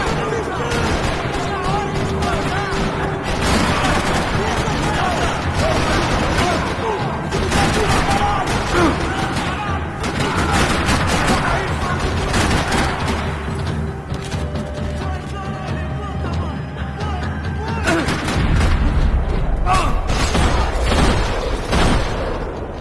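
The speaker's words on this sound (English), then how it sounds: "Another parking lot rattling with gunfire." Rapid bursts of gunfire rattle on and off amid heavy booms and crashes in a parking lot in the video game Max Payne 3, loud and dense, with voices sometimes breaking through the chaos.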